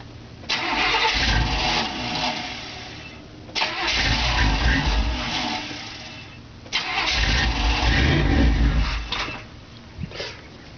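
A 1993 Chevrolet Suburban K1500 with an idle fault cranks and catches three times in a row. Each time the engine runs rough for a few seconds and then stalls, loud and close, with no talking.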